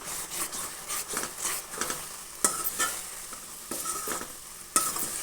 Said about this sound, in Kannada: ಇದು ಕೂಡ ಚೆನ್ನಾಗಿ ಮಿಕ್ಸ್ ಮಾಡಬೇಕು ಪೌಡ್ರ್ ಹಾಕಿದ್ಮೇಲೆ.